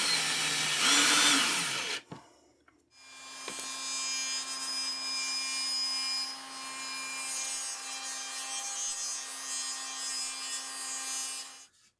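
A power drill drives screws into a wooden workbench, with a short loud scraping burst first, then a long steady whine that runs for several seconds and cuts off at the end.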